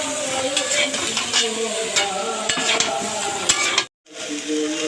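Potatoes fry in hot oil after the prawns are lifted out, with a loud, close crackling sizzle and repeated scraping and stirring clinks in an irregular rhythm, then a brief silence before the sizzle resumes.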